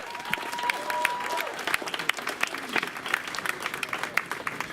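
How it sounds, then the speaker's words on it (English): A crowd at a nurses' march and rally claps steadily in sustained applause, dense and fairly close, with a few scattered whoops and cheers mixed in. "Give yourselves a round of applause."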